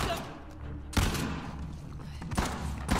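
Gunfire in the Uncharted: The Lost Legacy video game, with heavy shotgun-like blasts at about one and two and a half seconds standing out over a dense, continuous bed of battle noise and scattered shots.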